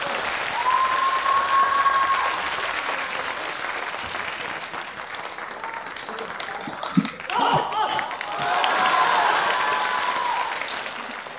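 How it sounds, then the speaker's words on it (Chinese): A theater audience applauds warmly as two Deyunshe crosstalk performers take the stage, with dense sustained clapping across the whole stretch. Brief voices cut in midway before the applause swells again. "谢谢各位观众朋友们的掌声"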